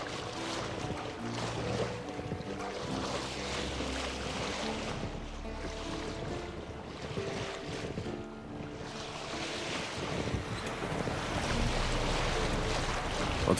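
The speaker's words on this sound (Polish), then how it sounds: "Odpadnij trochę od wiatru, bo żagiel ci łopocze." Sail flapping in the wind aboard a boat in The Witcher 3, a continuous broad rushing and fluttering wash blended with wind and waves, fairly loud and steady throughout with no speech.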